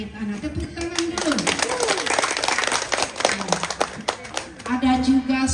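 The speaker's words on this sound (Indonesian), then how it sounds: "Tepuk tangan dulu." Audience applause at a Christmas celebration and office inauguration for a midwives' association branch in Indonesia, with dense clapping throughout, mixed with talk and background voices.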